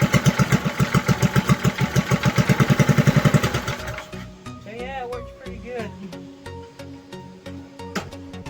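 A homemade 3-speed motorcycle's small engine chugs in a steady, pulsing rhythm close by for several seconds, then cuts to a softer idle as someone speaks over it.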